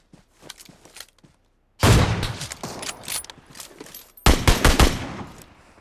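Gunfire in the mobile battle royale game PUBG Mobile, sniper mode: two loud sustained bursts of shots that cut in sharply, preceded by quieter scattered pops, with no talk over them.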